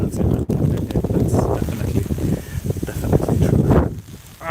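Steady wind gusting and buffeting the microphone on a rainy walk to Tokyo Tower, with a person talking throughout and rain-like hiss underneath.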